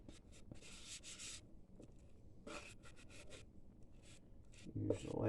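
Concrete mixed in a bowl gives repeated gritty scraping and rubbing strokes, close and fairly quiet, in short bursts with pauses between.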